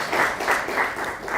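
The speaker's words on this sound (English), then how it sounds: "A round of applause for the panel." An audience applauds a discussion panel at the close of a Q&A session on a national policy assessment, steady clapping in waves that runs throughout with no talking over it.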